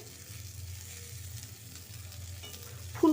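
Cauliflower, potatoes and bori dumplings sizzle in hot oil in a frying pan on high heat. The frying hiss is continuous and nearby with faint stirring, and a brief louder clatter comes right at the end.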